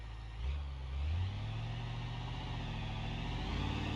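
A truck engine in BeamNG.drive pulls onto a trailer, its steady mid-pitched hum swelling in two brief revs before settling into a constant low drone, with no talking.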